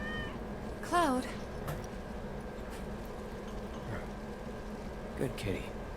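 A cat meows a few times in Final Fantasy 7 Remake. The rising, wavering cries are clear and close, over a low steady game ambience, and a fainter mew follows near the end.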